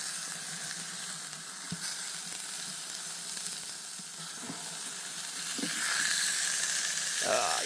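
Meat sizzles on an Ozpig BIG PIG grill after being flipped, a constant close hiss that swells louder toward the end, with a few soft knocks of utensils.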